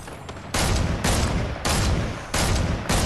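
Gunfire in the Fortnite video game, with loud, close bursts of rapid shots in about five blocks separated by brief pauses and no talking.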